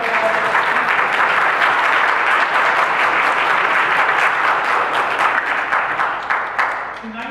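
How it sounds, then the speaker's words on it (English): Loud, full applause from a concert audience at a holiday family celebration, many hands clapping densely and close, then tapering off near the end. "I think we should clap for them"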